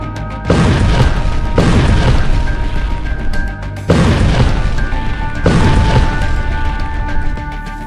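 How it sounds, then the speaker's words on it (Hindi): Tank explosions in the Gaza war: a series of four heavy, loud booms, each a sudden blast followed by a long rumbling roar, one after another without pause. "गाजा में टैंक युद्ध, हमास ने फोड़ दिए टैंक।"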